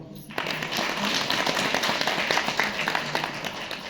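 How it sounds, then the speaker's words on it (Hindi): Audience applause at a Guru Purnima gathering honouring the chief guest, a dense sustained clapping from many hands in a hall, starting abruptly and continuing steadily at a fairly loud level. "जोरदार तालियां"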